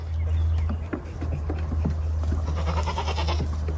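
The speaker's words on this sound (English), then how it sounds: "You silly goat." Goats bleating on a farm, several short nasal calls close by over a steady low hum, with faint hoof clatter and shuffling.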